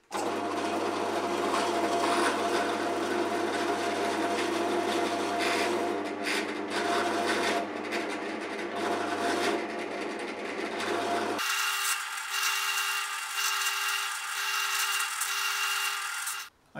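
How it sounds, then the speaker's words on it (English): A drill bores into wood for a guitar bridge, first with a countersink bit and then a larger bit, giving a steady close grinding whir that shifts to a higher, smoother whine partway through, with no voices. "I've used a countersink bit to create depressions so that the larger drill bit will seat itself correctly."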